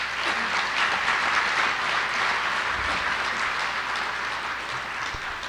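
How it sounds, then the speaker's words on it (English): Loud, dense applause from a large crowd, sustained and even from start to finish with no voices. "Will you give them a round of applause, please?"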